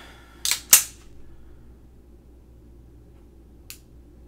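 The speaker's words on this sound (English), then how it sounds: "It does have an audible click." Trigger reset on a Beretta 84F pistol: two quick sharp clicks close together, then a single fainter click a few seconds later, with near silence between.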